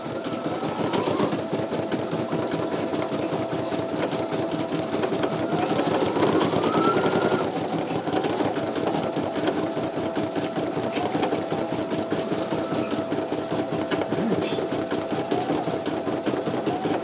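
Two embroidery machines, a PE900 and an NQ1700E, stitching the same design together, a loud continuous mechanical whir with rapid needle clatter and occasional pitch rises as the hoops move.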